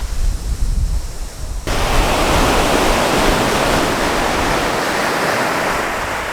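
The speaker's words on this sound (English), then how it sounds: "watch the waves crash on the beach" Surf breaking on Sai Daeng Beach on Koh Tao, Thailand, in choppy conditions, starts softer and then swells into a loud, steady wash of crashing waves that carries on to the end with no voices.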